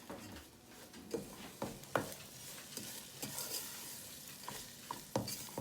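Onions sizzle in a pan while a thick brown sugar paste is stirred through them, with a soft steady fry broken by regular scraping strokes of the spoon, close and fairly quiet.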